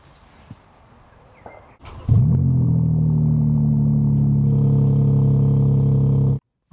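BMW M4 Competition xDrive G82 engine starts up and settles into a steady, loud low idle-like drone as the car creeps slowly, after a few faint clicks and handling noises.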